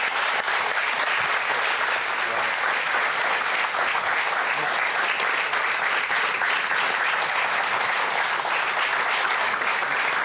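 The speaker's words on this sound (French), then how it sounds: "On peut l'applaudir." A studio audience at a French television show breaks into dense, sustained applause, steady and loud for about ten seconds, with no speech.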